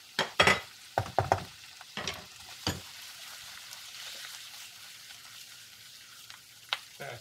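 Pieces of firm-fleshed scorpionfish are added to lightly crisp vegetables in a pan for a kavurma, with sharp clattering stirs and bursts in the first few seconds, then a steady low sizzle of frying.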